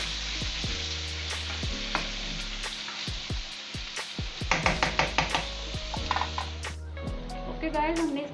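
Cabbage and chicken karahi with tomato and salt cooking in a pan: a loud continuous fry sizzle under repeated sharp metal scrapes and clatters of a spatula against the pan, growing busier toward the end.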